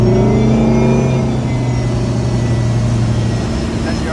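A 2021 Supra SL wake boat's engine accelerates up to speed, a loud close steady drone with rising tonal harmonics that gradually settles into a constant hum.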